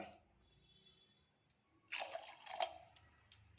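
Tamarind juice poured into a pot of ground sprouted beans and coconut while cooking, a brief close splashing trickle that swells for about a second, then fades into quiet kitchen background.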